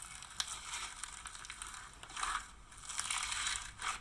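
Crunchy slime squeezed and kneaded by hand, close and quiet, giving bursts of crackling, popping crunches that swell and fade in irregular waves.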